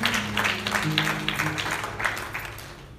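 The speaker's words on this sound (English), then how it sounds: "Can we give God a hand clap of praise?" A church congregation claps their hands in praise during a Baptist service, a dense wash of applause with a sustained organ or keyboard tone underneath that gradually fades.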